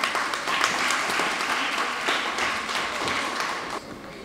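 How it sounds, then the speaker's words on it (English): Audience applause at a primary school debate between Glen Stuart Primary and Balaclava Primary, a steady wash of clapping that carries on for several seconds and then thins out slightly near the end. "Give him a clap, please."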